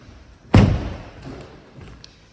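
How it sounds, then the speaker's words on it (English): VW T-Roc R-Line Convertible tailgate opening with a single sharp, close thunk of the latch releasing, followed by a softer rumbling swing that fades over a couple of seconds. "Opening the tailgate for a convertible"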